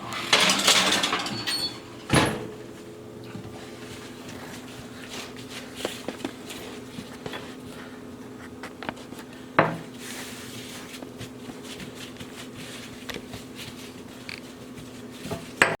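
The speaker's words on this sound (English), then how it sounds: "I'll put these in the oven and let them start baking" A baking tray of homemade biscuits going into the oven, heard as a metallic clatter and scrape at the start, then sharp single knocks and clunks of the oven door and tray against quiet kitchen background.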